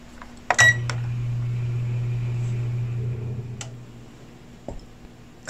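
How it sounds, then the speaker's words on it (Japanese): Oven being set to preheat to 180 degrees: a sharp click and a beep, then a steady low electric hum running for a few seconds, with a faint click near the end, no talk. "生地ができたらオーブンを180度に予熱しておきます。"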